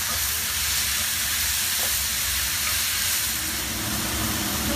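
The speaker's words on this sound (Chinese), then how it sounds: "再炒到啲雞髀菇軟身" Chicken drumstick mushrooms stir-fry in a hot wok with a steady, loud broadband sizzle and hiss that runs unbroken throughout.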